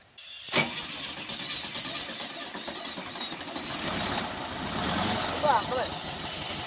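A Volkswagen Beetle engine starts and settles into a steady mid-pitched idle nearby on a rural road, with people talking over it.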